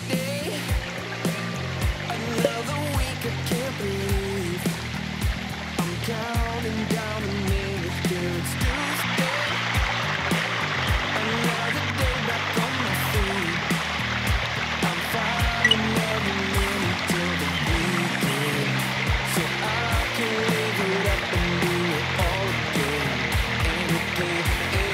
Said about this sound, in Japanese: すごい、まだ滝が。